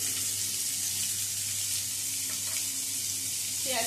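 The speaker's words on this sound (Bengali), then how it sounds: "এবারে এর মধ্যে কুচিয়ে নেওয়া পেঁয়াজটা দিয়ে দিচ্ছি। পেঁয়াজ কুচিটাও ভেজে নেব।" Chopped onion frying in hot oil after garlic for a traditional Bengali greens dish, a steady close sizzle with a brief clatter near the end.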